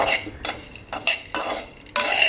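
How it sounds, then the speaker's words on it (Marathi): Makhana and sunflower seeds dry roasted in a pan without oil or ghee over a low flame, stirred with a spoon in a few separate bursts of scraping and rattling, close and fairly clear. "तेल तूप काय टाकायचं नाही, कोरडंच भाजून घ्यायचं आहे"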